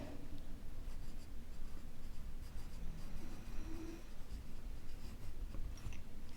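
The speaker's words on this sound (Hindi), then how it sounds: "तो यहाँ पे लिख सकते हैं" Pen writing on paper during a class lesson, a soft continuous scratching that stays fairly faint against steady background noise, with no talking.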